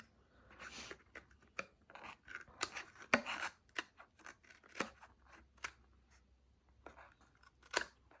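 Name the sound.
paper snips trimming scored paper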